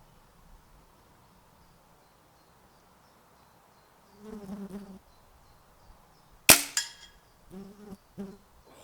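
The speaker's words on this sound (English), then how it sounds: "This is a bit more boingy and has quite a bit more spring rattle to it." A .22 spring air rifle fired once at a target, a single sharp crack followed by a brief springy rattle, set among faint background noise and a few soft thumps and shuffles before and after.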